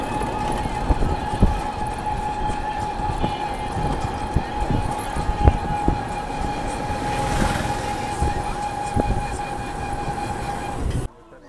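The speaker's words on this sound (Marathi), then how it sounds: "ट्रेन चालली आहे कुठली तरी, जोरात आवाज येते." A train passes close by near the India–Bangladesh border, a loud steady rumble with a sustained horn-like tone and repeated wheel clacks over the rails, ending abruptly.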